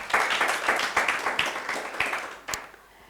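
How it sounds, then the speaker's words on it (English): A small workshop audience gives a round of applause, loud rhythmic clapping in distinct bursts that thins out, ends with a last few claps and fades to quiet. "Please give them a round of applause."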